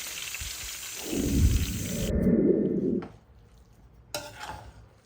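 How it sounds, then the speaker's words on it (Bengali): Large potato pieces frying in oil for beef biryani make a hiss that swells into a thick sputter for a couple of seconds, then drops to a quiet room with one brief clatter. "বিরিয়ানির জন্য বড় বড় পিস করে আলু ভেজে নিচ্ছি"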